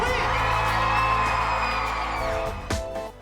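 An audience at a gala evening whoops and cheers loudly, a sustained shout that trails off into scattered yells and a short bang near the end.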